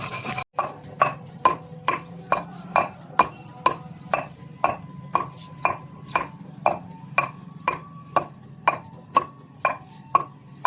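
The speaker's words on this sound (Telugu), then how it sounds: "రోకల్లో ముందుగా 1 స్పూన్ జీలకర్ర వేసుకుందాం. యాలకులు, లవంగాలు వేసుకుందాం. వీటిని ఇలా మెత్తగా నూరుకోవాలి." Cumin seeds, cardamom and cloves pounded with a pestle in a stone mortar for a village-style Telugu chicken chutney, a steady rhythm of sharp, close knocks roughly every half second, with no talk.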